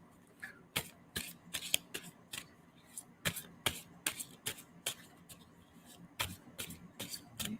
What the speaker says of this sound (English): I'm going to stop shuffling on that.